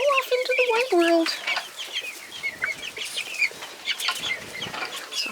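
Barred Rock chicks and young chickens in a farmyard pen, peeping and clucking close by in quick overlapping calls, with some wing flapping and rustling behind them.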